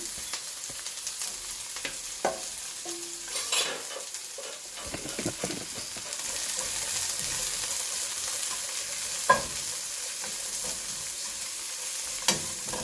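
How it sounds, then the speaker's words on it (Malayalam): Large onions frying in a pan for a green chicken gravy, a continuous soft sizzle with occasional stirring scrapes and light clinks, close and fairly quiet with no talking. "അപ്പോൾ സവാള നല്ലോണം മൂത്ത് വന്നിട്ടുണ്ട്"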